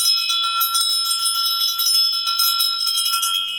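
A small handheld bell with a handle and metal tines is shaken continuously, giving a bright, shimmering high ring with rapid repeated strikes, close and sustained throughout without any voices.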